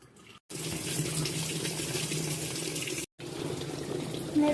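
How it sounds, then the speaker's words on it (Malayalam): Water rushes steadily into a washing machine that has just been switched on, a loud, even gush up close that breaks off briefly and then starts again. "ഞാൻ വാഷിംഗ് മെഷീൻ ഓണാക്കാൻ പോവാണ്"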